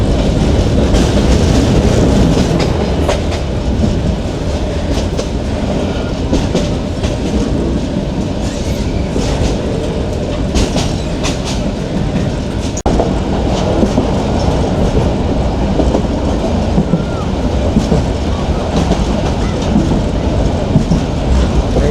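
A Bangladeshi intercity express train rumbles along the rails near Sholoshahar Junction in Chattogram, loud and steady, with rhythmic clickety-clack from the wheels and occasional metallic rattles.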